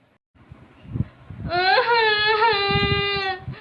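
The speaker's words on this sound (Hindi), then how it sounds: "अरे, ये रोने की आवाज कहाँ से आ रही है?" A young woman, a fairy with a broken wing, sobs and wails in a long, loud, wavering cry that rises and falls, preceded by soft rustling movement.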